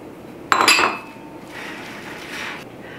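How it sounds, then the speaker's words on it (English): Bacon and chives are stirred into muffin batter in a bowl, beginning with a sharp clink of a utensil against the dish, followed by softer, steady scraping and mixing sounds close by. "So I'm gonna mix the bacon in next."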